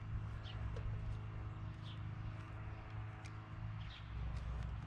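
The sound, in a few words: birds singing outdoors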